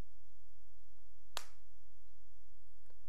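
A single sharp hand clap made to trigger a microphone circuit in an electronics experiment, standing alone over a low steady electrical hum.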